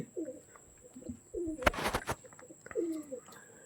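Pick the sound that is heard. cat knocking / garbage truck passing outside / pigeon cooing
pigeon cooing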